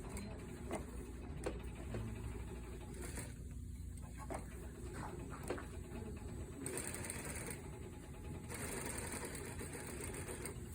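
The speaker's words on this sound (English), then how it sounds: "So I'm top stitching. This is just decorative." A sewing machine running a decorative top stitch on fabric, a steady close mechanical whir with rapid ticking needle strokes in bursts and short pauses between runs.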